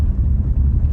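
A low, steady rumble of a landing airplane, heard from nearby with a continuous heavy roar throughout and no voices.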